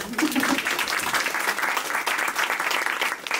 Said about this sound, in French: On peut applaudir vraiment.